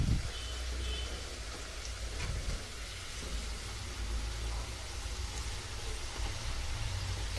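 Potato french fries frying in hot oil, turning golden, give a steady, dense sizzling hiss throughout, fairly close and even in level, with no talking.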